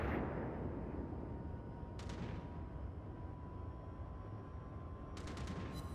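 Naval gunfire from the heavy cruiser Atago in World of Warships, two sharp salvo reports a few seconds apart over a constant low engine and sea rumble.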